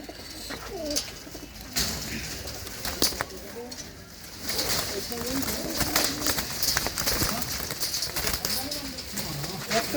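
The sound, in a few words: pigeons in a loft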